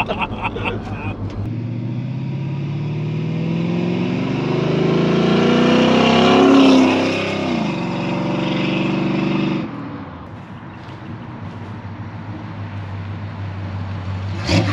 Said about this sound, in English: That's what this car should sound like. It's better uphill than it was downhill before.